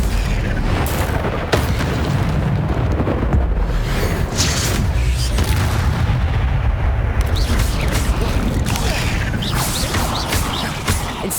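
The Incendio fire spell is cast in Hogwarts Legacy during a fight with a giant spider, with repeated booming fiery bursts and sharp impacts over a dense, loud battle din.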